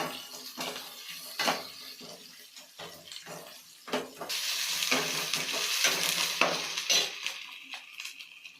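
Curry leaves and fenugreek sautéing in a hot pan, a steady close sizzle broken by repeated scraping stirs and clinks, the frying swelling louder in the second half.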